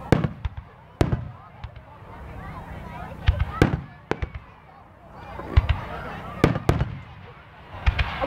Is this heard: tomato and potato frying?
no